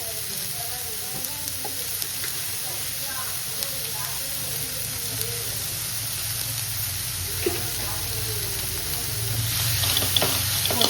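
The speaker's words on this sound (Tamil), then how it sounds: "நல்லா வதக்கிக்கோங்க." Bread samosa filling of onions browning with salt in a hot pan, giving a continuous, moderately quiet sizzle that runs steadily throughout and swells slightly near the end, with occasional faint stirring sounds.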